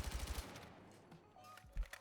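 Gunfire from a weapon in the video game Battlefield 6: a rapid burst of about five close, punchy shots in the first half second, then quieter game noise and one more heavy thump near the end.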